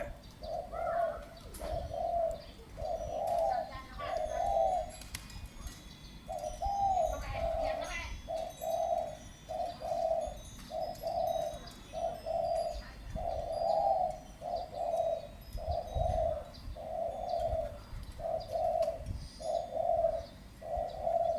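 Soft rhythmic cooing of a spotted dove repeats in steady phrases, fairly near, with a brief pause midway and faint background murmur.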